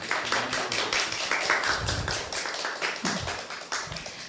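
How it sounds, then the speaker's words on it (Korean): An audience at a startup event gives a round of applause for a presidential candidate, a run of quick claps and taps, fairly soft, with murmurs beneath. "힘찬 박수 부탁드립니다."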